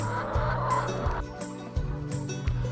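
Hens at a small chicken farm in Uddeholm, Värmland, Sweden, making low repeated clucking calls close by over steady outdoor background noise, with no talking.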